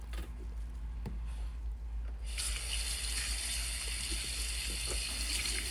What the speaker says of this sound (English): Then after a while, because I left it for a few minutes, then I'm washing it off again.